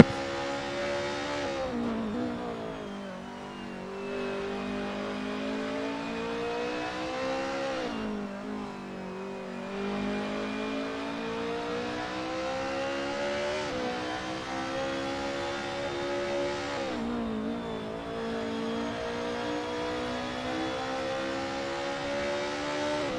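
Racing car engine on a touge time attack run in a racing video game, steady high revving drone that climbs through gears with brief dips at each shift, continuous and loud with no talk.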